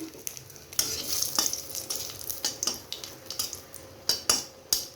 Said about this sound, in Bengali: লঙ্কাগুলো আগে ভেজে নিব।